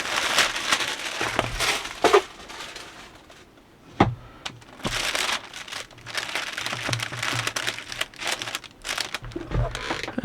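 Wrapping material crinkles and rustles close by as a gourmet holiday crate is wrapped like a Christmas present, in uneven bursts of crumpling with brief pauses and sharper handling thumps.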